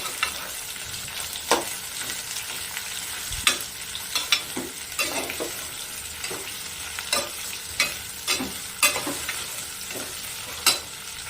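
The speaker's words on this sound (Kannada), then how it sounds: "ಮೀಡಿಯಮ್ ಫ್ಲೇಮಲ್ಲಿ ನೀಟಾಗಿ ಇವಾಗ ಫ್ರೈ ಮಾಡಿ" Bitter gourd frying in oil over a medium flame for sambar, a steady close sizzle broken by repeated sharp scraping clicks of stirring at irregular intervals, with no voices.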